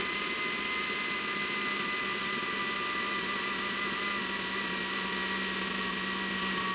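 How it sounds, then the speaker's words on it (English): A blender whirs continuously at a steady high pitch, loud and close, while emulsifying Caesar salad dressing, with no talking over it. "You need to do this while your blender is running"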